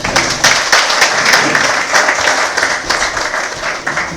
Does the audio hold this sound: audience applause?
yes